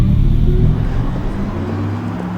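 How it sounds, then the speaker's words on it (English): An Audi R8 e-tron electric sports car drives on the road, giving off a steady, loud, low rumbling hum that eases slightly over a couple of seconds, with no talk over it. "This is what the Audi R8 e-tron sounds like on the road."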